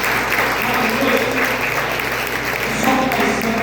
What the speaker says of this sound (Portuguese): Dê um aplauso ao Senhor nesta noite.